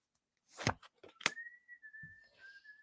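A person whistles a single steady, slightly wavering tone after a few short knocks and rustles, fairly close and moderately quiet.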